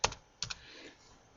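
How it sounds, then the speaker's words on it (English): Two crisp computer keyboard key presses, a single tap followed by a quick double tap about half a second later, close and clear against a quiet background. "You can switch between them just by clicking the mouse, or better by pressing the tabulator key"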